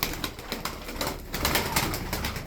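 Pigeons and doves kept for sale at a bird market, a crowd of them softly cooing and shuffling together in a steady, busy murmur close by, with no voices standing out.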